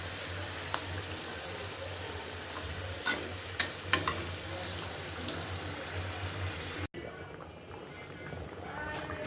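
Hilsa fish curry sizzles and fries steadily in a pan with occasional stirring clanks, then broth is poured in and the sizzle drops to a softer bubbling; a voice talks faintly in the background.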